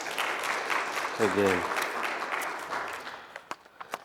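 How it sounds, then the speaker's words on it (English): A crowd claps in a steady wash of applause, with a brief spoken word partway through as the clapping tapers off. "Let's give them a big round of applause"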